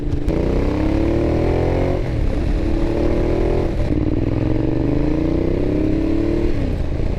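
A Ducati Diavel motorcycle accelerating hard along a backroad, its loud engine climbing in pitch through repeated gear pulls, each rising whine dropping at a shift, with rumbling wind noise and no speech.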